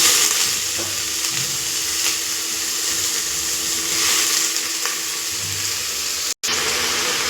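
Vegetables sizzle steadily in a hot pan over fried ginger and garlic for tomato vegetable rice, with a constant close hiss and soft scraping stirs, briefly cutting out just before the end.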